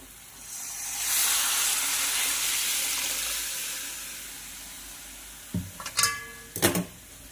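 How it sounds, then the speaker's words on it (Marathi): Chicken boiling water is poured into frying masala with a broad hiss and sizzle that swells and slowly fades, followed by a few clattering knocks of a pan or utensil. "यावर आपण जे चिकन बॉईल केलं होतं ते पाणी घालूया"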